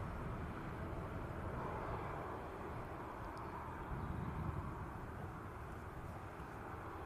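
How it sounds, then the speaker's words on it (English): An EasyJet airliner departing Manchester Airport, a constant broad jet roar, fairly distant and steady, with no talk over it. "There goes EasyJet."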